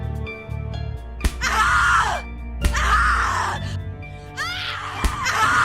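Anguished screams from a character in the horror video game The Cat Lady: several loud, harsh cries rise and fall in long bursts over an ominous game soundscape.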